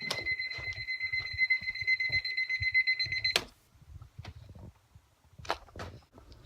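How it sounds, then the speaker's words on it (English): An alarm clock rings with a loud, steady high electronic tone for about three seconds, then cuts off abruptly, leaving softer thumps and movement sounds. "That's the alarm."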